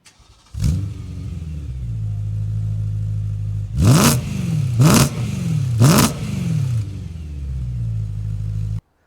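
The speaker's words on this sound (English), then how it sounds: "with this M3 having an aftermarket exhaust. Have a listen." Close, loud exhaust note from a BMW E92 M3 with an aftermarket exhaust: the engine starts, holds a steady idle, then gets three sharp blips of revs in quick succession before dropping back to idle.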